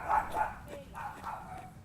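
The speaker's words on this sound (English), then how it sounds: "I think we have some cat and dog shenanigans going on next door." A dog barks next door, a short series of muffled, fairly distant yips and woofs over a faint outdoor background.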